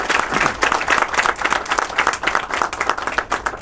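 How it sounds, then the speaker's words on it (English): Loud, sustained applause from an audience honouring the staff of Best Tutors at a Somali community programme, dense hand clapping filling the whole stretch without pause. "a big round of applause to them"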